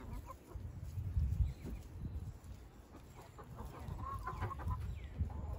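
A limping hen with bumblefoot clucks faintly while someone handles and grabs her. Short, irregular clucks come through rustling and handling noise, with a louder scuffle near the start.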